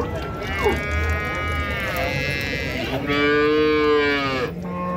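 A dairy cow at the Erode cattle market lows in two long, drawn-out moos, the second louder and rising, close to the listener over a steady hum of crowd and market noise.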